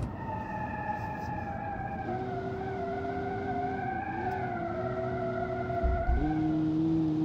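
Car in the Automation video game hums along with a steady engine tone, its pitch dipping and shifting as it takes a sharp turn, moderately loud with no talk.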